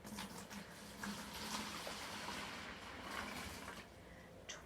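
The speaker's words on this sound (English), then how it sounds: "I now need to add 12 cups of water." Water from a measuring cup poured into a batch of homemade giant-bubble solution of soap, glycerin and baking soda, a soft, continuous splashing gush heard up close and fairly quiet, with no talking.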